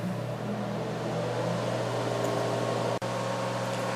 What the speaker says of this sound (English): I'm going to warm up my Breville Air Smart Oven